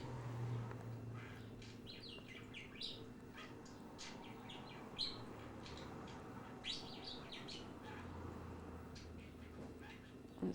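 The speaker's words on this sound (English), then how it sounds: "Derek's the bird." Derek, a pet bird, chirps and tweets in a series of irregular, fairly close calls over a steady low hum, with a fish tank bubbling in the background of a home.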